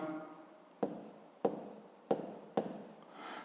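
A pen writes numbers into a table for a fifth-grade math exercise: four quiet, separate scratchy strokes, each starting sharply and fading, with faint room background between them.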